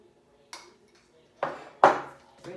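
A utensil knocks and scrapes in a bowl as pie ingredients are mixed, four separate clunks spread over a couple of seconds, the third loudest, close up with quiet between them.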